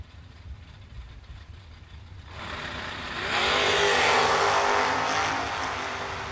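A Camaro and a Chevy II drag race car launch down the strip, a distant engine rumble swelling into a loud, sustained roar of acceleration that holds and then eases slightly.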